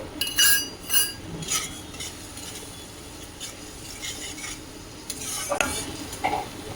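Spices with Kashmiri chilli powder frying in oil for a ridge gourd and gram-flour fritter curry; a steady low sizzle with scraping spatula strokes, bunched at the start and again near the end, close and alone.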